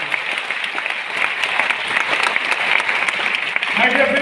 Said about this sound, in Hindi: मैं चाहूंगा एक बार हमारे अजय जी के लिए ताली बजाएं